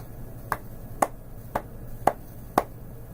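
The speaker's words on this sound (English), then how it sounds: "So I'm clapping, and then it stops." Five sharp hand claps ring out about half a second apart, crisp and isolated against a quiet room, each a single bright snap with silence between.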